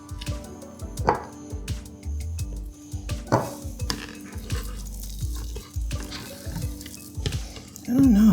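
A spatula folds stiff no-bake peanut butter cheesecake filling in a bowl, making repeated soft squelching scrapes and occasional clinks against the bowl, close and moderately loud.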